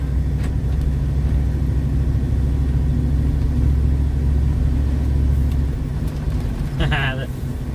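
A truck driving past a federal courthouse in DC, its engine a loud, continuous close rumble heard from inside the cab throughout, with a brief higher-pitched sound near the end.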